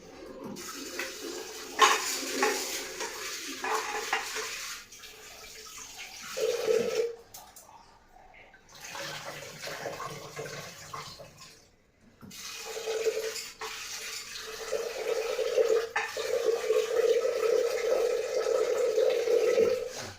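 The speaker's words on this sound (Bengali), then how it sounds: "এই দেখো ডালটা একটুখানি জল দিয়েছি" Tap water runs and splashes into a pot of split yellow peas being readied for khichuri in a home kitchen, flowing in uneven bursts with short pauses, close and moderately loud.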